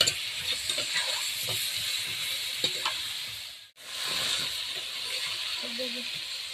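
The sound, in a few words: chicken frying in hot oil with salt, turmeric, chilli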